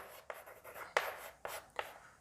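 Chalk or marker strokes across a classroom board, several short scratchy bursts in an uneven rhythm, close and fairly quiet with no talking over them.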